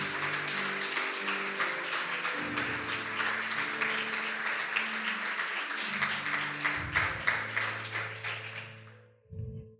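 Church congregation clapping rhythmically in time with worship music, a steady beat of many hands over sustained organ or keyboard tones, fading out at the end.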